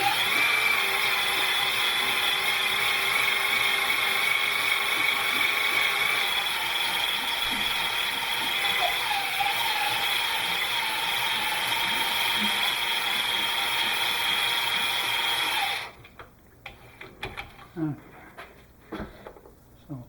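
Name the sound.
honing a McCulloch kart engine cylinder with a rigid hone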